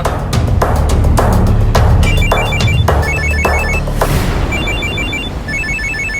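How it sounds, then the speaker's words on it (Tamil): A mobile phone rings loudly and alone in a Tamil TV serial scene, first as a series of sharp, evenly spaced electronic pulses, then as a repeating bright melodic ringtone. "கதிரே, அந்த ஃபோனை ஆஃப் பண்ணி போடு."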